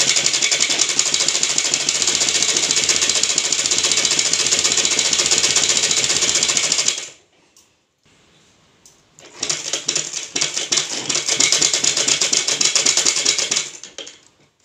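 A sewing machine runs stitches along the neck edge of a blouse, giving a steady, loud mechanical whirr in two long runs with a short pause between them.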